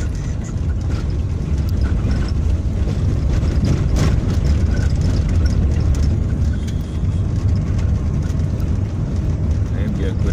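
A vehicle rolls along a rough interior road in Maseno, its engine and tyre rumble a constant loud wash with road noise and scattered bumps throughout.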